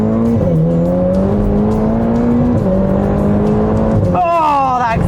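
A Ferrari Portofino's 600 hp engine is driven in sport mode and hums steadily as it slows to a halt, with a couple of quick throttle blips, then a sharp rising rev at the end. Someone talks over it.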